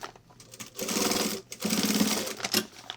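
A sewing machine stitches a panel of a 20-liter bag in two quick, steady bursts, close and fairly loud, separated by a short pause.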